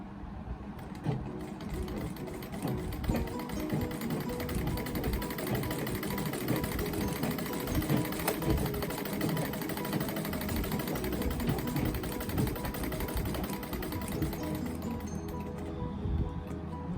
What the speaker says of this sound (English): And then let's try this out.